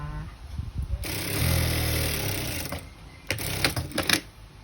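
A sewing machine stitches a polo shirt placket, running in one sustained rattling burst and then several shorter stop-start runs, close and fairly loud with no talking.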